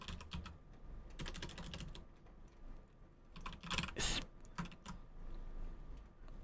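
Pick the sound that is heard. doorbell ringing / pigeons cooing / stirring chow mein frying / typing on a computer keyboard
typing on a computer keyboard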